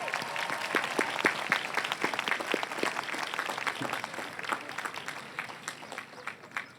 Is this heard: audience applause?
yes